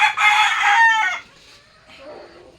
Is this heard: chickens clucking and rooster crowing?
yes